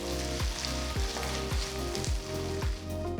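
Onions with ginger garlic paste sizzle steadily in hot oil for an egg curry base, a dense continuous crackle with regular stirring scrapes roughly every half second, close and fairly loud with no talking.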